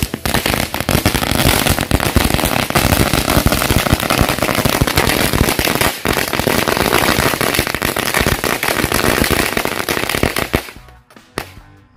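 A long, dense barrage of firecrackers crackling and popping nonstop at night during Ramadan, loud and close, stopping abruptly near the end.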